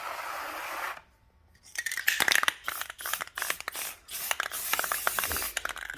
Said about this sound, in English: Try not to spray too much